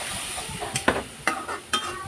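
Spice paste frying in oil over very high heat, a continuous close sizzle broken by three sharp scraping stirs at regular intervals, no voices.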